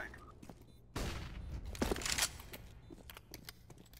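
Gunfire in CS:GO, shots fired through a wooden wall, a sharp burst followed by a few crackling shots, with quieter clicks and scattered distant shots around them.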